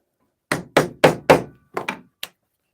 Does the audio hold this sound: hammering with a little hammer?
yes